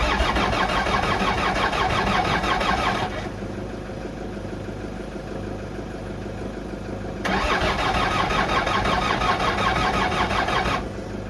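Land Rover Discovery TD5 diesel engine cranking too slowly without catching, two sustained bursts of laboured starter churning separated by a quieter pause, close and loud.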